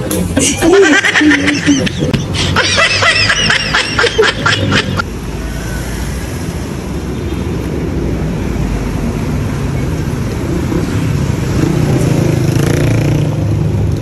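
A 450cc motorcycle out on its first ride, engine noise and rushing wind running loud and steady throughout, with some sharper mechanical texture in the opening seconds and laughter-like voices near the start.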